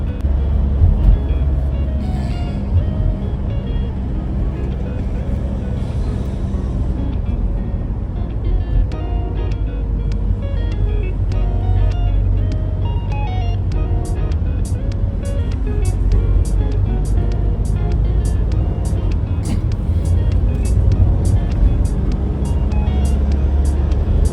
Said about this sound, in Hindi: ये गाड़ी के हॉर्न ने ना गाड़ी से ही आ रही खुराटों की आवाज को ना दबा दिया है